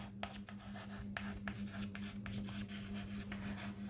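Pen scratching across paper in short repeated strokes, a steady close scribble with brief pauses between words, over a constant low electrical hum.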